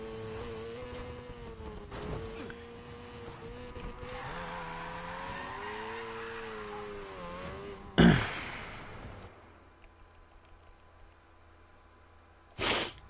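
Need for Speed Payback car drifting with a long, wavering tire squeal over revving engine tones, close and loud, ending in a sharp burst and quieter engine hum.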